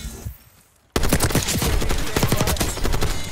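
Sustained automatic gunfire in the Black Ops 6 shooter, bursting in suddenly after a quiet moment and continuing as a loud, rapid fusillade.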